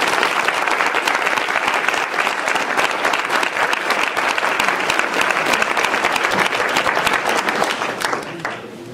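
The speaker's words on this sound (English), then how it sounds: "how about a real loud applause so he can hear it out there?" Loud, sustained applause from an audience at a spiritual service retreat talk, a dense continuous roar of clapping that holds steady for several seconds before easing slightly at the end.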